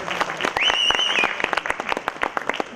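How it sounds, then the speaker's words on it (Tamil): An audience at a film audio launch event claps together in a burst of applause, dense at first and then thinning into scattered individual claps, with a brief voice or whistle over it. "அவருக்கு ஒரு வாட்டி நல்லா கைத்தட்டலாம் எல்லாரும்"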